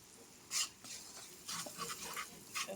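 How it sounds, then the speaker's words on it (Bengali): Spice paste for a fish roe kofta curry is stirred and fried in a pan, giving soft sizzling with a few scraping strokes of a spoon in short bursts and no talking. "ভালো করে মশলার সাথে কষিয়ে নেব।"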